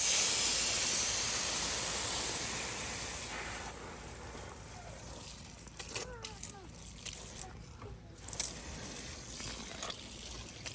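Water spraying from a hose onto fabric grow bags in a homemade raised garden bed, a steady loud hiss at first that softens into quieter splashing and dripping, with brief voices in the background.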